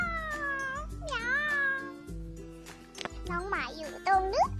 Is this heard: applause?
no